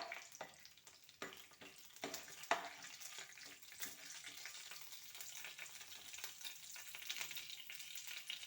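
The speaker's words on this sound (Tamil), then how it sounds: "கடுகு பொரிஞ்சிடுச்சு." Mustard seeds splutter in hot oil, a faint, close, uneven crackle of small pops and spits with a few sharper snaps early on and a soft hiss running throughout.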